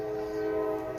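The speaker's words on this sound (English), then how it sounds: "So sorry if you can hear the train in the background." A train horn sounds in the background, a steady sustained multi-tone blare held throughout at moderate volume, with faint rumble of rail cars beneath it.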